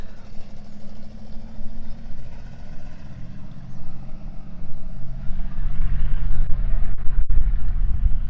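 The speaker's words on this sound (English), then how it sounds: "a very loud truck is driving by" A heavy truck rumbles past with a deep engine roar that builds louder toward the end, close by.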